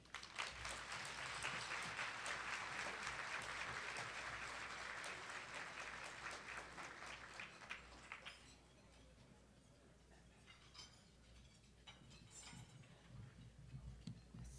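Symposium audience applauds after a keynote address, a dense wash of clapping that thins out and fades after about eight seconds, leaving scattered claps and faint room noise.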